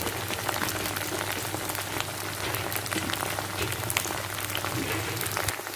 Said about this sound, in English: let all the lady's finger fry into oil very finely